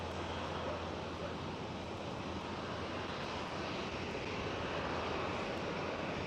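A DHL aircraft taxis onto runway 18 left at Schiphol Amsterdam airport, its steady jet-engine roar a constant broadband rumble from a distance with wind noise, unbroken throughout.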